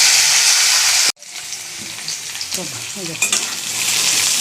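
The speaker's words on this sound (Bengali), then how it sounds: "ভেজে নিই লাল লাল করে" Figs frying in a pan until reddish, a loud close sizzle that cuts out sharply, then a quieter sizzle with stirring and a few clinks.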